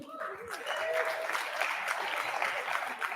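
Audience applause at a conference session on food innovation, steady clapping from a crowd for a few seconds, with a voice briefly audible at the start.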